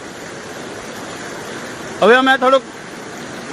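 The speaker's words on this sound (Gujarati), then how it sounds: "ધોધમાર પાણીનો પ્રવાહ આવી રહ્યો છે ઓજત નદીમાંથી" Torrential floodwater from the Ojat river roars in a steady broadband rush during heavy Gujarat rain, and someone speaks briefly over it.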